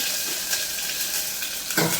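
Curry leaves with ginger, garlic and chili paste sizzle in hot oil on a medium flame, a steady bright hiss broken by a couple of soft stirring clinks, with no voices.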